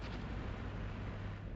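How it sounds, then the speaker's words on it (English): Continuous artillery barrage from 125mm cannon rounds landing in the war game Armored Brigade, a dense, rumbling wash of overlapping explosions with a steady low roar throughout, no distinct gaps between impacts. "there's a lot of rounds that are going to land here continuously now"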